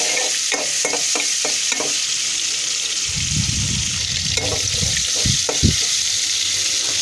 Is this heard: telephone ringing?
no